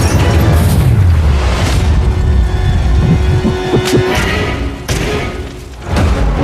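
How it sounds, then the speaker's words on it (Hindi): Firecrackers bursting during a timed money challenge, giving several sharp, loud booming cracks at irregular intervals over a constant roar of background noise. "पटाखे फूटने वाले हैं।"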